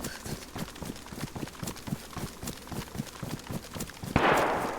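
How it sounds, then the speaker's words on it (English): AI soldiers firing on zombies at a helicopter crash site in DayZ: a long run of rapid, evenly spaced gunshots, moderately distant, ending in a louder, sharper burst of noise. "they're shooting the Zeds at the heli"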